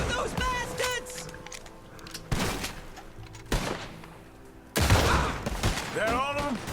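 Gunfire in the video game Red Dead Redemption 2: sharp bursts of shots crack out several times at irregular intervals, loud and close, with voices talking between them.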